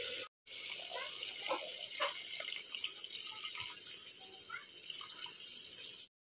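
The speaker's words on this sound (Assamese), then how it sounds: "লৰাই এতিয়া পানী দিম।" Water pours steadily into a cooking pot, a continuous close splashing and trickling stream after a brief silent gap at the start, with no talk.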